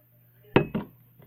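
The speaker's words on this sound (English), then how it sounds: "I dropped an ice cube." An ice cube drops into a plastic pop bottle, landing in two quick hard knocks with a faint third tap, close and alone in a quiet room.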